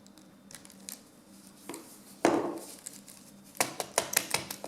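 Plastic key fob case being pried open with a quarter, giving scattered scraping clicks and a brief louder crack, followed by a cluster of sharp plastic snaps and rattles near the end.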